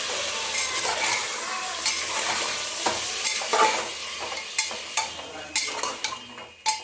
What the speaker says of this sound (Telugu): మటన్ వేసుకుంటాం కదా, ఇప్పుడైతే మంచిగా కలుపుకోవాలండి